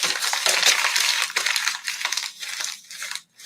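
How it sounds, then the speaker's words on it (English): Paper is crumpled close up in a children's experimental music lesson, with bursts of crisp crackling and crunching that grow sparser and fade toward the end. "the first most obvious one you might know about is crumpling paper"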